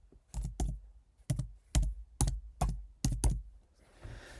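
Computer keyboard keys tapped in a quick, irregular series of about nine sharp clicks, close and clear, with no talking; the typing is done while installing a palette in Node-RED for a Victron Cerbo GX.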